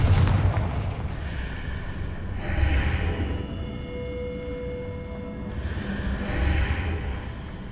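Confringo spell blasts in a Harry Potter trial video game, two booming explosions with rumbling low end and crackling tails, loud and close, spaced a few seconds apart over a steady ambient hum.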